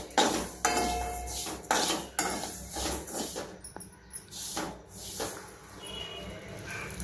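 A utensil scrapes and clinks against a pan while something is dry roasted over low gas, giving irregular close metallic knocks and stirring sounds with no talk.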